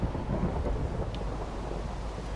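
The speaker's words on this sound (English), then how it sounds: "I haven't been in here when it's been raining before" Thunderstorm ambience in a Minecraft modpack game world, a continuous low rumble of thunder with steady rain hiss underneath, fairly quiet and unbroken.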